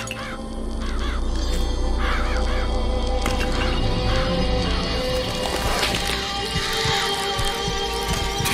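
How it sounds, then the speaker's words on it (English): Murderous crows summoned in BioShock Infinite, a flurry of harsh caws repeating over a loud rumbling, clattering game soundscape, close and continuous. "Press to summon murderous crows"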